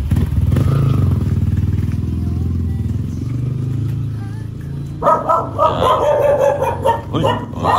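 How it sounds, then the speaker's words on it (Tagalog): Dogs barking on a muddy rural road, a cluster of sharp barks breaking in during the latter half over a motorcycle engine drone, with people talking. "Uy, mga aso."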